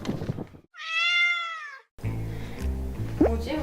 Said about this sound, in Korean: 우리 루루 야옹이가 여기 널브러져 있으니까